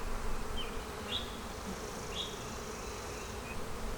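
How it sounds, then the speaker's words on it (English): Honeybee worker bees buzzing steadily in an open hive, a dense continuous drone close by with a few individual bees flying past, no talk. "everything that we have up here are worker bees"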